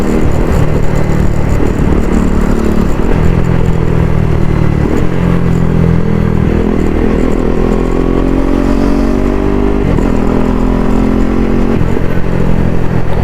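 A KTM Duke 250 Gen 3 motorcycle with a modified exhaust drones loud and close at steady revs, its pitch rising and falling through gear shifts over about thirteen seconds with no pauses.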